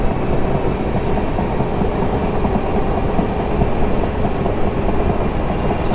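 A Class 317/5 electric multiple unit running in Train Simulator 2017 between Ingatestone and Ipswich, a loud steady rumble of wheels and traction with faint rhythmic rail clatter throughout.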